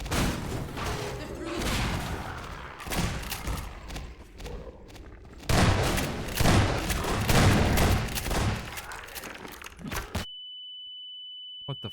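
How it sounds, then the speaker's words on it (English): An ice gun fires in a video game, loud repeated blasts and bursts in two heavy stretches with voices mixed in, ending abruptly in silence broken by a thin steady electronic beep. "that ice gun is so badass"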